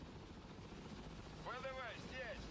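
A military helicopter in the video game Broken Arrow keeps up a low, constant rotor drone in the background while someone talks over it.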